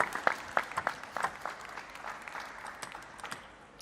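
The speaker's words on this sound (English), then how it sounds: "Bogdanovic and Bayor, well, cheering their teammate on" Scattered applause and clapping from teammates at an ITTF Mixed Team World Cup table tennis match, with a burst of irregular claps near the start, then continuing sparser claps under a soft crowd murmur.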